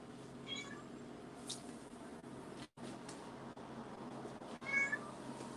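A cat meows several times in a home kitchen during live cooking of halwa puri and chole, with moderately loud calls spread over steady background hum and clatter.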